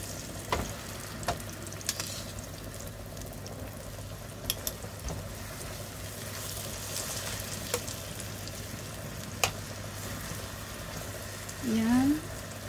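Eggplant frying in cooking oil in a frying pan, a soft steady sizzle with occasional faint clicks and a short scrape near the end.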